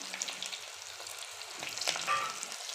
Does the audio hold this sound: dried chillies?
yes